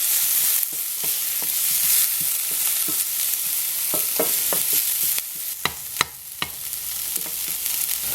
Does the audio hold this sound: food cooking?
yes